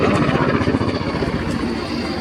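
An NH Industries NH-90 helicopter flies at an air display, giving a steady loud roar of engine and rotor noise with a faint rhythmic chop throughout.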